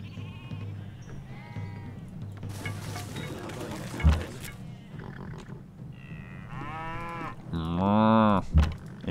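Cattle moo loudly in the video game Civilization V, with several long, deep bovine calls, the last one swelling and most prominent, set against a low game soundtrack.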